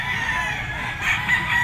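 A yellow-legged banderado sweater rooster crows loudly and close by, one sustained cock-a-doodle-doo in a backyard breeding yard.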